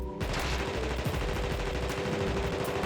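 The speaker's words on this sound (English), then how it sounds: "Just shoot him with bullets until he turns red" Sustained rapid gunfire fills the whole stretch, a loud dense burst of shots aimed at the Ceiling Thing creature in The Thing video game, with no talking over it.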